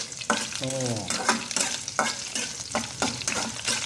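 Dried red chillies fry in oil for Pallipalayam chicken, with a close sizzle broken by a regular rhythm of stirring scrapes and bursts, plus a brief tonal, voice-like sound early on.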